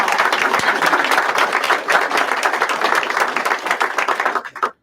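An indoor audience at a book celebration for a stroke comeback center breaks into sustained, dense applause that stays full for several seconds, then thins and fades out at the end.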